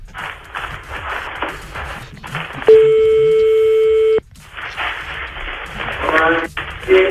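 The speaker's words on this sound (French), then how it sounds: "je vous passe un appel, je effectue le transfert immédiatement sur le téléphone" Telephone call-transfer tones: a steady tone holds for about a second and a half between stretches of line noise and muffled voices on a phone call.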